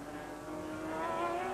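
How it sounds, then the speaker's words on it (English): Racing sidecars running 13-inch wheels with wide slick tyres warm them up at a race meeting: a steady, humming engine drone that swells slightly toward the end, heard without any talk. "Sidecars warming up their tyres now."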